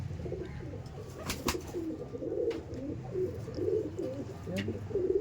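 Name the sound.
pigeons cooing in a loft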